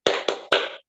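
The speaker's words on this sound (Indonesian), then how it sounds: "kita tepuk semangat dulu ya anak-anak" Schoolchildren perform a tepuk semangat classroom clap: three sharp, loud, close bursts of hand claps in quick succession, the last slightly longer, with no talking.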